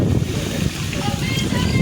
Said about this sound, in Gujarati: અત્યારે પણ ફૂલ પવન સાથે વરસાદ ચાલુ છે